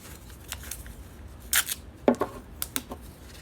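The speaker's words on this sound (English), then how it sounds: "take the blue tape and just go right around this" Blue tape is pulled and wrapped around a worn hose, giving a few sharp ripping and crinkling bursts between quiet pauses, close up and without speech.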